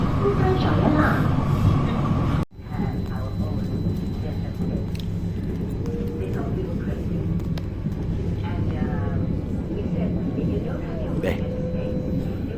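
An MRT Putrajaya Line train rolls along in Kuala Lumpur, a steady loud rumble of the carriage heard from inside, with a brief sharp dropout early on and faint tonal whines and announcements or talk over the running noise.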